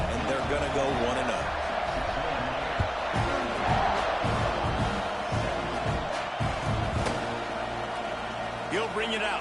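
Home stadium crowd at a College Football 26 video game match, a dense continuous roar of many fans with scattered shouts and cheers, loud and steady throughout.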